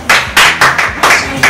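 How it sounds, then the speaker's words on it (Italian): A handful of sharp, loud hand claps in an irregular rhythm, close by in a home kitchen during lasagne making, with no talking between them. "Applauso, applauso."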